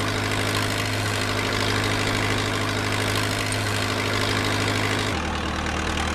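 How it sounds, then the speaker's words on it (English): Forklift engine running in a steady loud drone as the truck drives forward, the low hum shifting pitch near the end. "Then drive the forklift forward."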